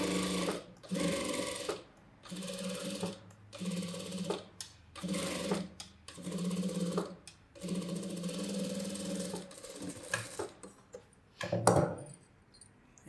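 A sewing machine runs edge stitching along a boat neck blouse in bursts of rapid mechanical chatter, stopping and starting about eight times, close and clear with short pauses between runs.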